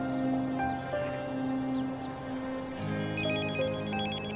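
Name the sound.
telephone ringing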